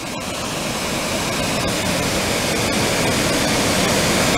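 The upper part of Potato Falls in Gurney, Wisconsin, gives a steady, broad roar of rushing water that is loud and constant throughout, with no voices.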